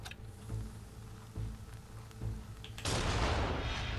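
Hand cannon fired in Nioh 2, a few dull low booms at first, then a sudden loud broadband blast near the three-second mark that holds on as a roaring noise.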